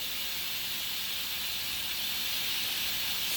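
Okra stew with meat and onion cooking in a pot gives off a steady, close hiss of steam that holds even and unbroken throughout, with no voices.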